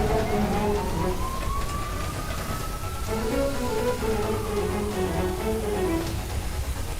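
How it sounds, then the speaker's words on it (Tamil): Ambulance siren in a tense rescue scene, a loud, wailing tone sweeping slowly up and down across several seconds, layered over busy street and engine noise, without speech. "இந்த ஆம்புலன்ஸ் வந்துருச்சுப்பா."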